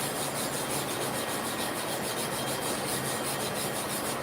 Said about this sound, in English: I'm just smoothing the abrasive and evening it out across the plate.